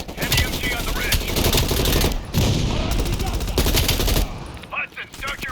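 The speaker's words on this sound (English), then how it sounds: "Watch it, heavy MG on the ridge." Heavy machine gun fire in the video game Call of Duty Black Ops Cold War, loud sustained bursts of rapid gunfire with brief gaps and scattered shots nearby.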